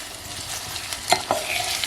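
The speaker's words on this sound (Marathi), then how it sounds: "कांदा थोडा भाजून घेऊन मग तेल टाकूया." Onion and garlic fry in oil in a pan, giving a close, continuous sizzle with a couple of brief scraping stirs.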